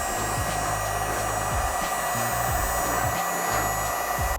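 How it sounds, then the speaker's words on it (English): A small heat gun blows hot air steadily onto a used PC motherboard to loosen its CPU, a continuous close whooshing hum with no talking. "Now I'm just using this little heat gun and let's get the CPU off."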